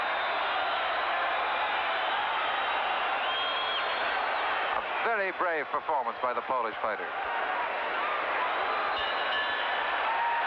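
Crowd at a 1970s Olympic boxing match applauding a fighter still on his feet, a steady roar of clapping and cheering throughout, with a commentator talking over it midway.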